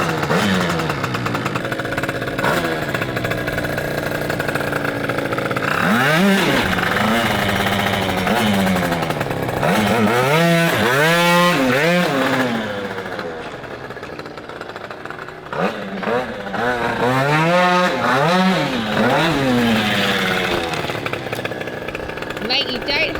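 A tuned Yamaha Aerox moped engine revs hard and close, its whining pitch climbing and falling through several loud throttle blips with a brief lull midway.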